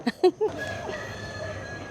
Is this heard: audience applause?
no